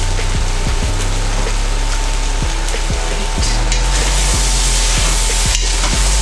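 Mixed vegetables for vegan ramen fry in a pan, a steady loud sizzle with low crackling and occasional sharp ticks of utensils against the pan, no voices.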